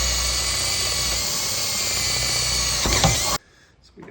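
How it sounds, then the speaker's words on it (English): Power drill boring a mounting hole for an automatic door opener arm, a steady, close, loud whine that grinds briefly near the end before cutting off abruptly. "I'm going to go ahead and drill through here"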